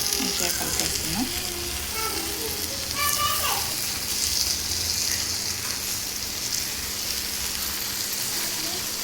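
Dry fish curry being stirred in a pan in a village-style kitchen, with steady close sizzling and frying plus scraping stirring sounds throughout, under faint background noise.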